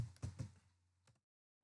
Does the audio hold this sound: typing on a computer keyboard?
yes